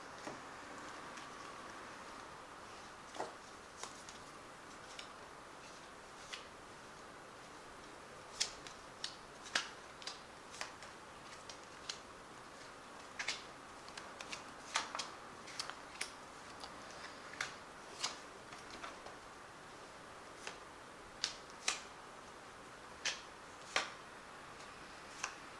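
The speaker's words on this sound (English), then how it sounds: "I've shuffled these cards before, so I'll just cut them" Tarot cards from the Bright Idea deck being cut and handled, a scattered run of soft, crisp card taps and flicks close by, quiet and irregular over a faint hiss with no voices.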